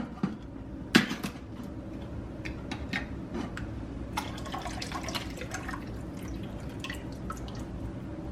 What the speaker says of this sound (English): Let me get this open and drain the water off.